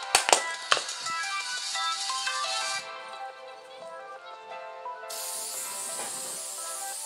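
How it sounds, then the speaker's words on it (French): Sealant sprayed from a can onto DIY glam coasters: a few sharp taps at the start, then a steady, close hissing spray that keeps going, ending in a brighter, more even hiss. "Tu sprays et tu vas laisser ça peut-être pendant une heure ou deux heures de temps."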